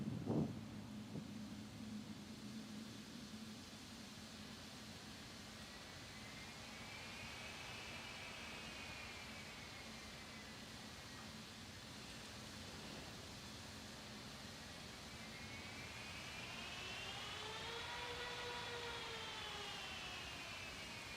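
Engines of a Boeing 777-200ER in X-Plane 12 spool under throttle application, a broad steady roar with rising and falling whining tones that swell toward the end, heard alone and continuous.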